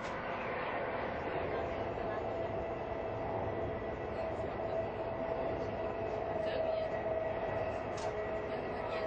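Inside a moving high-speed bullet train, a constant low rumble and rushing hum fills the carriage, steady and moderately quiet, with faint squeaks and small rattles over it and no clear voices.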